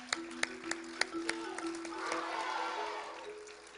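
An audience at a closing ceremony welcomes a taekwondo class onto the stage with a few scattered claps that swell into soft, fairly distant applause.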